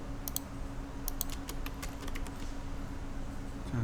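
Rapid keystrokes on a computer keyboard entering AutoCAD commands, a brisk irregular run of close clicks over a steady background hum, with no talking.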